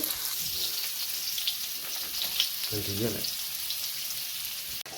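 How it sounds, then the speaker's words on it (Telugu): Ivy gourds sizzle and crackle steadily as they fry in a pan, a constant close-up hiss with a brief voice passing underneath. "దొండకాయలు అయితే ఇంకా ఫ్రై అవుతున్నాయి ఇంకా బాగా ఫ్రై అవ్వాలి"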